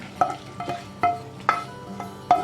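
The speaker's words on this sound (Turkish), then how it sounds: "Şimdi üzerine 2 adet domatesimizi koyuyoruz ve şöyle bir karıştırıyoruz" Tomatoes and a meat mixture are stirred in a sizzling frying pan, with five or six distinct scraping, clacking strokes of a utensil over a low steady fry.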